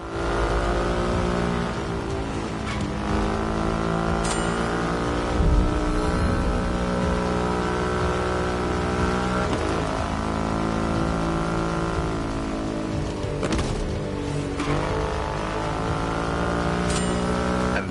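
A Triumph Rocket 3 motorcycle with its 2.5-liter engine runs in a steady, loud, close drone with rich layered harmonics and brief swells in pitch, continuous throughout with no voices.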